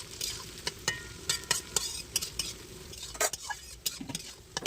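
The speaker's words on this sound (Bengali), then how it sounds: "মা প্রথমেই গাজরটাকে আগে ভেজে নেওয়ার জন্য কড়াইতে ঢেলে দিয়েছে" Carrots and capsicum stir-fry in hot oil in a wok, with a steady soft sizzle broken by repeated sharp scrapes and clinks of a metal spatula against the pan, close and alone.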